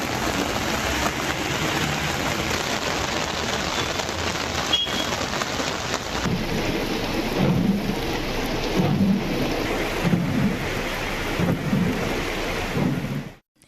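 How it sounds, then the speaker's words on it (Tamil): Heavy rain pours steadily in Kodaikanal, a dense loud hiss of drops on surfaces, with low thunder rumbling underneath before it cuts off abruptly. "கொடைக்கானலில் 2வது நாளாக 2 மணி நேரத்திற்கும் மேல் கனமழை பெய்தது"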